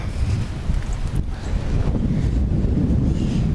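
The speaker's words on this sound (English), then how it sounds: "It's pretty windy out here." Gusty wind from a passing cold front buffets the microphone outdoors on a farm, a steady low roar with brief surges and no talk.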